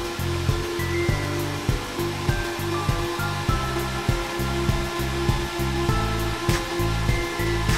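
iBeLink BM-K3 Kadena crypto mining machine running at about 72 decibels, a steady loud rushing fan roar with a constant hum and regular pulsing throbs, continuous and close with no talking.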